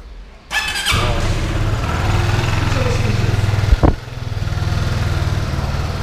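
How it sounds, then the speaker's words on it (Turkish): A motorcycle engine in a service workshop is started after an oil change and settles into a steady idle, loud and close, with a brief sharp rev or squeal near the middle before the even idling resumes. "Çalıştıracağız. Rölantide 2-3 dakika"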